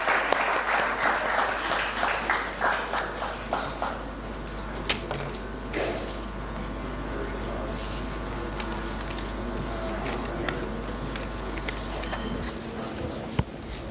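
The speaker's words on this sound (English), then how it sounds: "Give them a huge round of applause." Applause for sponsors fills a hall at an interior design institute's investiture ceremony, steady crowd clapping that thins after the first seconds while a low hum and scattered clicks carry on underneath.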